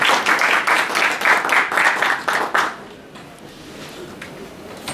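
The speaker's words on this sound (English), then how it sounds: "Let's have a round of applause for Mr. Garcia-Bolivar." A legal-drafting seminar audience applauds a speaker after his introduction. The dense clapping runs loud for about two and a half seconds, then stops abruptly, leaving quiet room tone.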